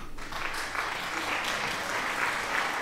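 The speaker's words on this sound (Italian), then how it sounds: "Diciamo un bel applauso al nostro mitico Fenobus" A steady round of clapping applause, dense and continuous from start to finish at moderate loudness, with no one speaking over it.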